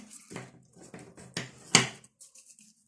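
Metal spoons being bent in half, heard as a few quiet, separate metallic clinks and scrapes with a sharper clack near the end, close and isolated.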